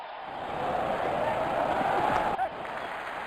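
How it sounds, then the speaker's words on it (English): A stadium crowd at a Real Cricket 20 match cheers after a six in a steady roar with some applause mixed in. The noise carries on for several seconds, breaks off briefly near the end, then picks up again. "Crowd is going crazy."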